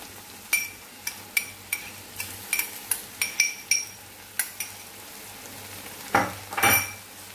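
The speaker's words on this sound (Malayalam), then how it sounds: "തക്കാളിക്ക ഇനി നന്നായിട്ടൊന്ന് വെന്ത് വരുന്നതാണ് ഇളക്കി കൊടുക്കാം" A spoon stirs tomatoes frying in a pan for spicy Kerala-style beef curry, giving a steady soft sizzle under a dozen crisp metallic clinks and scrapes, ending with a louder clatter.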